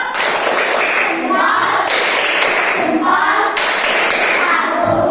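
Schoolchildren perform the tepuk jempol clapping chant in a classroom, their voices chanting together over loud, close, rhythmic hand claps that come in three repeating phrases.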